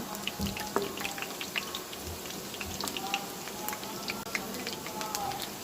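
Gram flour pakoras fry in shallow oil with a busy sizzle and scattered crisp pops and spatters, heard close throughout.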